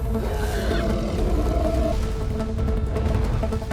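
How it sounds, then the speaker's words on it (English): A huge Ender Dragon from Minecraft roars in an animated creature battle, a loud sustained rumbling growl filling the whole clip over a dense low backdrop. "Its roar shook the forest."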